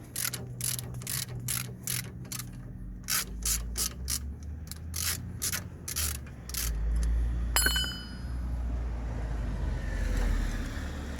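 A ratchet clicks in quick, even bursts as it undoes the bottom brake caliper bolt on a Nissan Micra K13 front brake. After the bursts a sharp metallic tap sounds, followed by a steady low workshop rumble and no talking.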